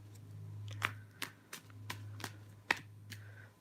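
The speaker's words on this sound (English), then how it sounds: "let's go ahead and just get a couple more cards for them." Tarot cards are shuffled and drawn in a series of sharp, separate snaps and flicks, about nine crisp card sounds spaced unevenly over a low steady hum, close and fairly quiet.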